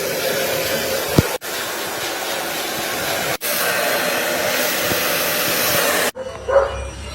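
A hair dryer blows loudly at a barber shop, a close, steady roaring whoosh that runs almost continuously with a few brief cuts, then drops away near the end.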